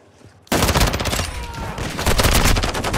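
Gunfire in Call of Duty: Modern Warfare II erupting suddenly after a brief quiet moment, then loud rapid overlapping shots and battle noise continuing to the end.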